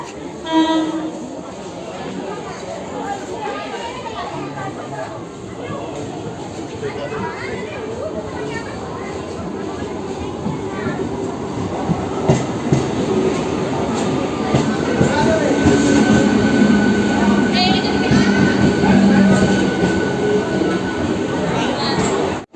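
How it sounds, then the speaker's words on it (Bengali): A local train pulls out of Mecheda station bound for Digha, its rumble growing louder with wheel squeal and rattling cars, while crowd chatter carries underneath. "আমাদের ট্রেন দীঘার উদ্দেশ্যে ছেড়ে দিল মেচিদা স্টেশন থেকে"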